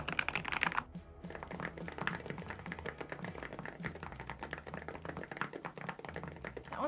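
Steady typing on a computer keyboard, a brisk run of close, clicky keystrokes with a short pause near the start.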